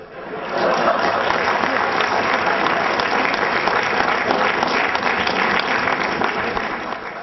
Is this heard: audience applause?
yes